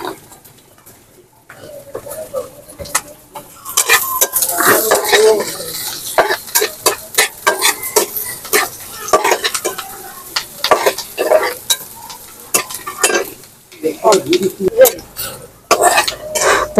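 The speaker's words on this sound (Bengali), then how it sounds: "আমি পেঁয়াজটা রসুনটা খুব ভালো করে টেলে নিয়েছি।" Onion and garlic stirred and frying in oil for a Bangladeshi bharta, with steady sizzling and repeated close scraping strokes of a spoon in the pan, starting quietly and growing busier, with a little voice in the background.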